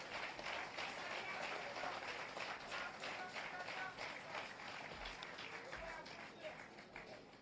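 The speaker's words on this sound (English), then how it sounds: "Keep the applause going." A large audience at a Jamaican political speech by Holness keeps up sustained applause for several seconds, a dense, even wash of clapping that eases slightly toward the end, with crowd voices mixed in.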